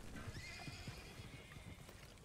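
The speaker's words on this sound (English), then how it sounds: "Oh, horsey, get back here." A horse in Red Dead Redemption 2 lets out a fairly close whinny that runs over a quick series of hoof clip-clops, with no voices over it.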